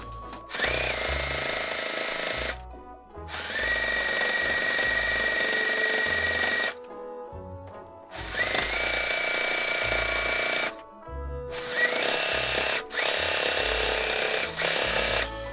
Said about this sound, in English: I'm going to stitch 1/4 inch all the way around the edge of the stocking.